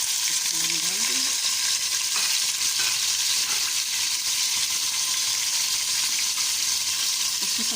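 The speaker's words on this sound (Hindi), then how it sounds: "पहले मैंने चिकन फ्राई करना है" Half a kilo of chicken with a little garlic sizzling and frying in a pan, a steady loud hiss with occasional stirring scrapes, close up, no talking.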